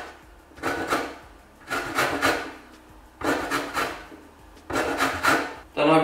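Lemon peel is rubbed over a hand grater to take off the yellow zest in four slow rasping passes, each about a second long, close and fairly loud with short pauses between strokes.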